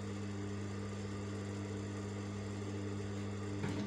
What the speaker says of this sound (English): I'll sew by the side using still 1/2 inch allowance